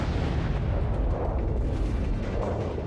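Heavy naval guns firing from a warship in World of Warships, a deep, rumbling artillery boom that rolls on continuously at steady loudness, with no talking.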